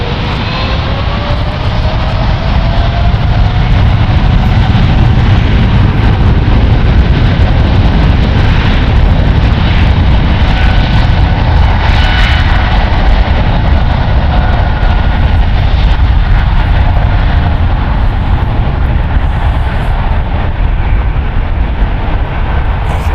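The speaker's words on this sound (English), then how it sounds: "Getting clear for takeoff there. United Airlines flight 1442 going to EWR." A United Airlines jet roars through its takeoff at San Francisco International Airport, a loud, steady, broadband engine rumble that holds for over twenty seconds with a faint rising whine, close and continuous with no talk.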